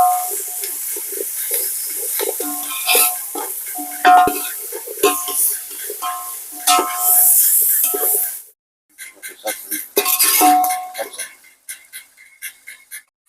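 Curry leaves and mutton are stirred in a frying pan for mutton fry, with sizzling and a scraping spatula in uneven bursts, close by, broken by a short pause, with speech heard over parts of it.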